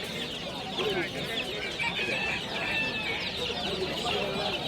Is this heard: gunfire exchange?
no